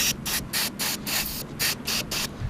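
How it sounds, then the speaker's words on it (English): WD-40 sprayed from an aerosol can into a stuck door handle on a Nissan Figaro, heard as about nine short, evenly spaced hissing bursts close to the microphone. "I'm just going to spray some WD-40 in it"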